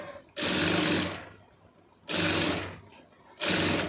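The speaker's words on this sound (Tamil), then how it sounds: "தைக்கும்போது இழுக்காமல் அப்படியே அடிங்க" An electric sewing machine stitches falls onto a saree in three loud, close bursts of rapid whirring, separated by short pauses of near silence.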